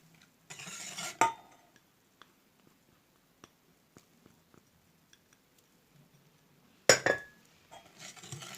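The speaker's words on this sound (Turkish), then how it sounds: "Karıştırıyorum" A spoon stirs a cornstarch, milk and vanilla pudding mixture for muhallebi in a bowl, with two brief bursts of clinking scraping against the sides and quiet tapping in between, close and clear with no talking.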